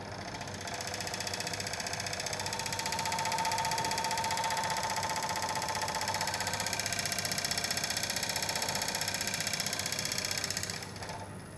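An electric motor driven at speed on a laboratory vibration rig, a loud steady mechanical hum and whine that holds constant for about ten seconds before easing off at the end.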